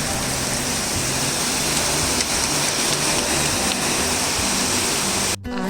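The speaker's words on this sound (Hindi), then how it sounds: "और ये देखिए ये बारिश हो रही है।" Steady heavy rain pours down in a dense, continuous hiss, close and loud, cutting off abruptly at the very end.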